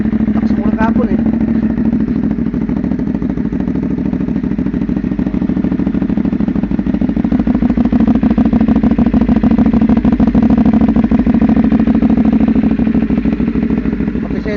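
A Cfmoto 450SR motorcycle engine runs steadily at idle, a loud, close, even mechanical drone with a fast rhythmic pulse and light clatter, holding unchanged for the whole stretch.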